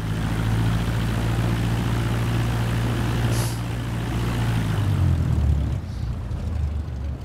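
A Cessna aircraft taxiing in Microsoft Flight Simulator 2024, its propeller engine droning steadily near at hand with a low hum that dips in pitch toward the end.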